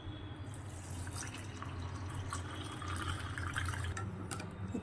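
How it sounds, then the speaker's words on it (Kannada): Liquid pours steadily into a cup with a soft, continuous trickling and splashing, close by and fairly quiet. "1 ಕಪ್ ಮಿಲ್ಕ್ ಆ್ಯಡ್ ಮಾಡ್ಕೊತಾ ಇದ್ದೀನಿ."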